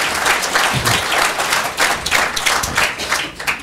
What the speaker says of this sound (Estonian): Teeme noortele ühe sellise julgustava aplausi.